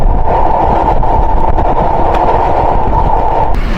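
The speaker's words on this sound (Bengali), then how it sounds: "অভিযাত্রী কমিউটার ট্রেন প্রবেশ করলো বুড়িগঙ্গা রেলওয়ে সেতুতে।" The Avijatri commuter train, running from Dhaka to Gopalganj, crossing the Buriganga railway bridge, heard from on board as a loud, continuous rumble and roar of wheels and carriages, steady throughout.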